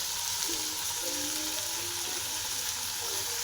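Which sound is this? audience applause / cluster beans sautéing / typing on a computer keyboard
cluster beans sautéing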